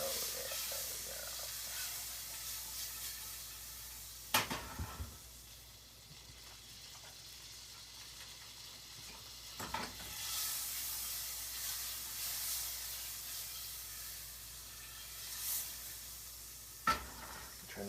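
Butter sizzling in a frying pan on a stove at medium heat, a steady soft hiss running throughout with a few sharp clatters of utensil or pan contact scattered through it.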